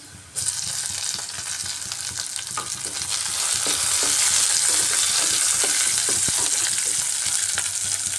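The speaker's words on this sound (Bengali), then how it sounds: "পেঁয়াজটা ভাজা ভাজা হয়ে এসছে এবারে এর মধ্যে কুচিয়ে রাখা টমেটো দিয়ে দিচ্ছি" Onion and chopped tomato fry in a pan, giving a loud, steady sizzle that swells after the first few seconds, with light stirring clicks throughout and no voices.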